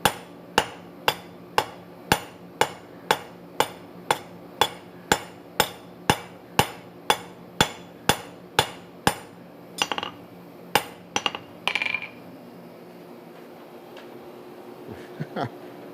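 Spring steel on an anvil takes about nineteen evenly spaced, sharp ringing hammer blows in a home forge, each metallic strike clear and close, then a few scattered clinks and knocks before quiet.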